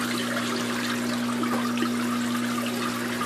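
Warm water pouring steadily from a leaking betta fish tank with a blown seal, a continuous close gush and trickle with a constant low hum underneath.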